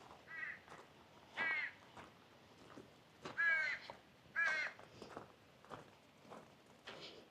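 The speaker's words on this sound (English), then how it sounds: "Sounds like there's a crow up there telling me what's up." A crow caws from somewhere overhead near a beach house in Seaside, Oregon, giving several separate harsh calls spaced a second or so apart, fairly faint and distant against quiet surroundings, with soft shuffling footsteps in between.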